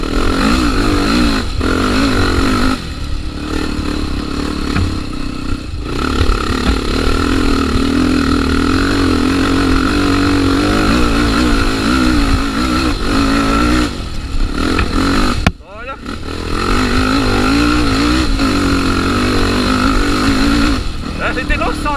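A Tornado 350 motorcycle on a hot dirt trail ride, its engine droning and revving up close throughout, nearly drowned in places by wind and loud overlapping voices, with one brief dip in the noise.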